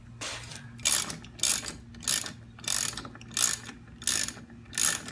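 A ratchet tightens a bolt during an intercooler install on a car, giving about eight evenly spaced bursts of rapid clicking, close and fairly loud, with no talking.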